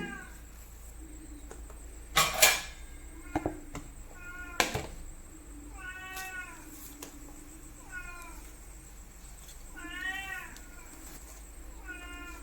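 A cat meows repeatedly, about five drawn-out mews spaced a couple of seconds apart, with a few sharp knocks and clatters in between in a quiet room.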